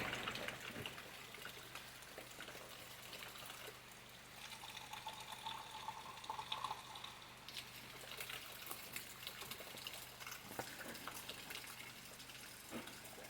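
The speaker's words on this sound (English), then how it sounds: "it's raining a little bit here and it's just falling off the corner of the roof" Rainwater trickles and splashes steadily off a roof edge, a continuous soft gushing patter with no voices.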